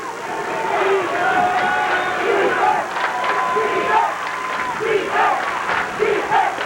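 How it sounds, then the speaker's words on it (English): Crowd at a high-school basketball final between Santa Cruz and Burlingame roars and cheers loudly in rising waves, with shouts and whistles and commentator speech mixed in. "Crowd at a high pitch"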